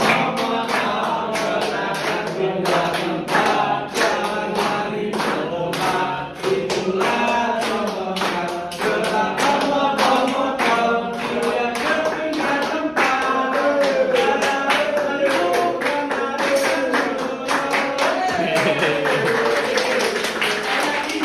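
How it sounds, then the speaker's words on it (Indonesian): Students in a classroom locomotor movement lesson clap their hands in a steady rhythm over music, with occasional voices. "Sambil gerakan tepuk tangan ya."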